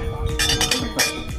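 Glasses clink together in a toast during a couples' trip to San Francisco and Napa Valley, several bright rings close together at close range, with people talking and cheering around them.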